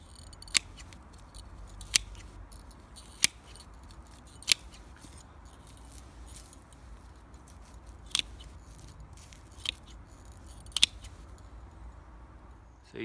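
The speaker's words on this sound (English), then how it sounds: "I'm just using the secateurs as a guide to how much to cut" Secateurs snip foliage on a Japanese garden tree being cloud pruned, giving about eight sharp, separate clicks spaced irregularly over a quiet outdoor background, with no talking.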